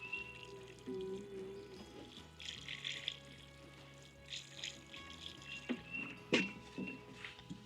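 Water poured onto freshly sown pepper seeds in a garden container, a faint trickling and pattering that runs in soft bursts with occasional louder splashes, with no one talking.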